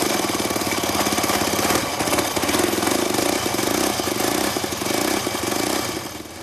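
A hillclimb motorcycle engine with a homemade copper-pipe exhaust runs loud and close, a rapid hammering drone that holds steady for several seconds.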